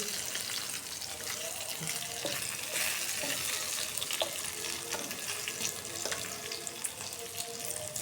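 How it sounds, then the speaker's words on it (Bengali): Eggplant frying in hot oil, a steady crackling sizzle that runs without a break, close and fairly loud, with faint clinks of stirring. "সেই বেগুন ভাজাটা বসাই দিচ্ছি এখন"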